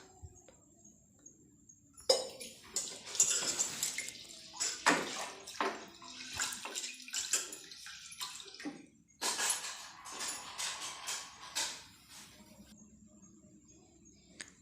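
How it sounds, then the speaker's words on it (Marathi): Water pouring and swishing in a metal pot as chana dal (split chickpeas) is rinsed, clinking against the sides, close and fairly loud in repeated bursts. "ही चणा आपण आता धुवून घेणार आहोत"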